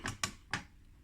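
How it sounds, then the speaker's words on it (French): Wire cutters snip the protruding component leads on a circuit board from an Edilkamin Iris pellet stove, giving three short, crisp clicks in quick succession, close and fairly quiet. "je vais couper les petites pattes qui dépassent"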